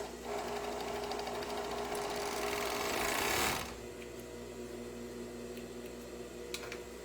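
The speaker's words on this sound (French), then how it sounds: "je vais venir coudre mes petites bandes de manches" Sewing machine stitching fabric sleeve bands together, a steady close whirring run of about three and a half seconds that stops abruptly, followed by quiet room tone with faint handling clicks.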